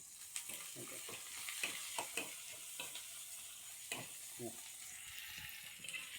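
Food frying in a pan is stirred in short scraping strokes over a soft, continuous sizzle, quiet and close, with scattered clinks from the utensil.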